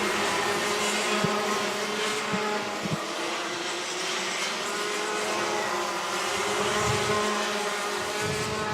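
Rotax Max Light karts race through a New Zealand Grand Prix track section, a steady high buzzing engine drone from several karts blending together at a distance, continuous and fairly loud throughout.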